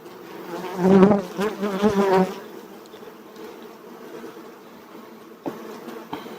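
Honeybees buzz loudly up close at a hive during the main honey flow for a couple of seconds, then the droning hum fades to a quieter steady background with a few brief passes.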